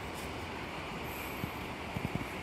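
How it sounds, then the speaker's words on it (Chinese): Kurobe Gorge Torokko sightseeing train rolling through the gorge, a steady distant rumble of rail cars with faint wheel squeal and a few soft clacks near the end. "然后有这个电车"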